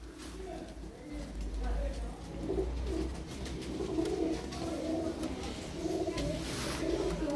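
Several pigeons coo softly and repeatedly close by in a pigeon shop coop, with a low, rolling burble under someone talking throughout.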